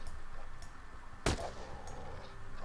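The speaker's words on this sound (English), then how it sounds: "Wasting ammo on a quartite." A single sharp gunshot rings out mid-clip against a quiet background hum while a creature called a quartite is fired at in the survival game Unclaimed World, followed by faint ticking afterward.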